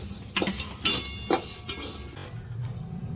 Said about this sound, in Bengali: আমার কড়াইটা গরম হয়ে গেছে এখন আমি এই ডালটা খেসের ডালটা আগে ভেজে নেব